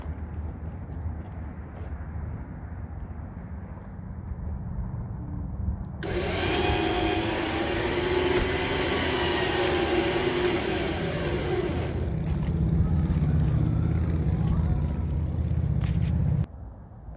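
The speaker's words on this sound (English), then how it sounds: "Gonna tow the Dodge power wagon with the little tiny Jeep" A Traveller 12000 lb winch mounted on a Jeep Wrangler pulls a Dodge Power Wagon. Its loud, steady motor whir rises suddenly over a low idling rumble, runs for about six seconds, then drops back to the engine drone.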